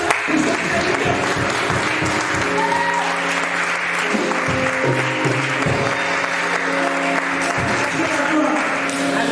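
Congregation applauding steadily through the whole stretch, a dense, loud wash of clapping at a church service, with an organ or keyboard holding sustained tones underneath.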